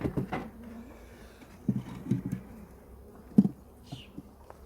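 Honeybees hum low and steady in an open hive of a queenless colony during an inspection, with a few close knocks and handling bumps breaking through the drone.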